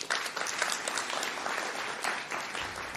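Steady, dense applause from an event audience at a food systems gathering, a crowd clapping continuously at even loudness for a few seconds with no voices on top.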